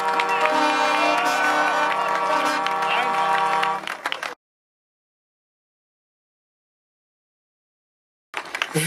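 Crowd applause and cheering at an outdoor charity fundraiser at Zeche Zollverein in Essen, loud for about four seconds before cutting to silence, then briefly resuming at the end.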